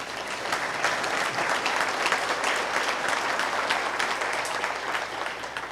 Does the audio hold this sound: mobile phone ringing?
no